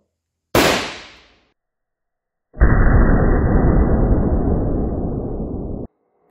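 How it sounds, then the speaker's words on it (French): A Maxtec blank alarm pistol fires once at point-blank range with a loud, sharp bang that decays quickly. A second, sustained broadband roar follows and holds steady for about three seconds before it cuts off. "Je vais tirer la Maxtec à bout portant."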